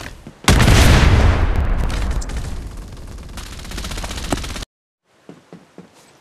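Gunfire in a mobile battle royale game: a loud, dense burst of rapid shots that runs for about four seconds and cuts off abruptly, leaving a few faint, scattered pops.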